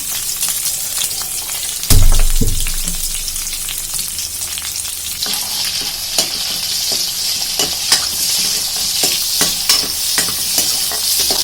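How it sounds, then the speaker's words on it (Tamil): Onions frying in oil with mustard seeds and curry leaves for a kingfish curry, a sharp burst of sizzle as food hits the pan, then a steady loud frying crackle with repeated stirring scrapes, no voices. "வெங்காயமும் நல்லா பொரியட்டும்."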